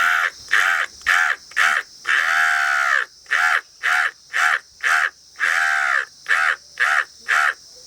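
A man, a farmer, imitates a crow's cawing with his voice: a loud, close series of harsh caws, some drawn out and most short, repeated in a quick, uneven rhythm.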